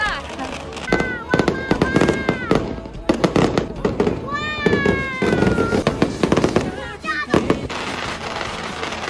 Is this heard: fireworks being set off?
yes